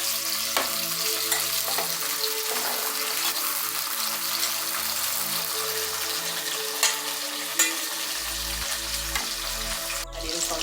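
Onion, garlic, sweet pepper and tomato sauté in hot oil for a Jamaican brown stew sauce. The sizzle is a continuous dense hiss with occasional small clicks and a low rumble near the end.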